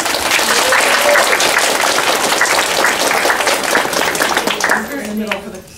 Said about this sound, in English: so can we give her a little round of applause?